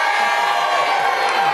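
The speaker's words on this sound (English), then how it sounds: "Let's have a big cheer, everyone." A crowd gathered for the FA Cup trophy being lifted gives a big, sustained cheer, loud whoops and shouts blending into a steady roar with no pauses.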